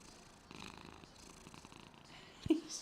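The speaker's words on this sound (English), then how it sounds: "He's just always purring." A cat purring right up against a microphone, a quiet, steady rhythmic rumble with a faint clicky burst near the end, close and soft, alone without speech.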